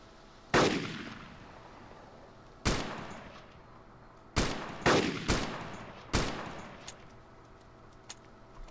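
Gunfire in the video game DayZ: about half a dozen loud, sharp shots, single and in a quick pair, each ringing out with a decaying echo over a quiet background.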